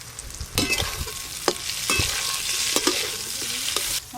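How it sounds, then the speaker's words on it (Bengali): Pumpkin pieces frying with chilli powder and cumin powder in a pan hiss steadily while a spatula scrapes and stirs in irregular clatters, close and fairly loud with no voices. "মশলা দিয়ে এই কুমড়োগুলো ভাজা হয়ে গেল।"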